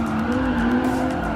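A Nissan GT-R GT Academy race car skids in Gran Turismo Sport, with a steady engine roar under a sustained tire squeal, loud and close throughout.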